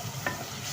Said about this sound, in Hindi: हमारे मसाले की भुनाई हो रही है।